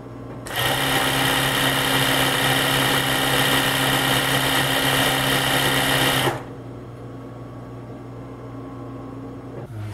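Singer 251-22 industrial sewing machine runs at a steady, loud mechanical whir for about six seconds, oil pump working, then cuts to a quieter motor hum that idles on to the end.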